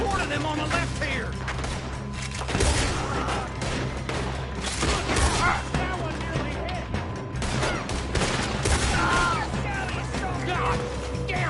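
Steady gunfire and mechanical clatter from a shootout in the western game Red Dead Redemption 2, continuous dense shots throughout with characters talking over the fighting.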